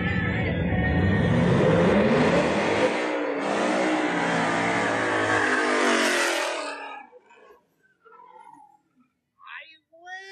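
Drag racing car on street tyres at the Francisco Villa racetrack in Chihuahua, a loud, close engine roar revving hard for about seven seconds, then cutting off abruptly, leaving faint distant sounds.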